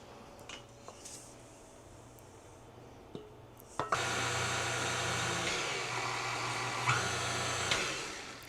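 An electric mixer whirs loudly and continuously through strawberry cardamom cake batter after a few clinks and knocks, its motor droning steadily with slight speed shifts until it winds down.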